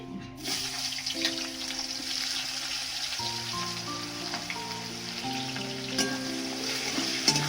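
Chopped onion sizzles in a pan for chicken with onion greens, a steady soft crackle with a few clinks and stirring scrapes, while a low musical background tune plays throughout.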